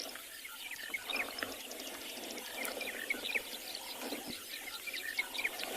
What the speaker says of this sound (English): A lot of grass birds around us, busy calling out monotonous lark.